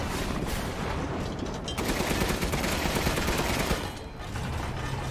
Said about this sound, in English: Oh, was that the machine gun? That was the machine gun.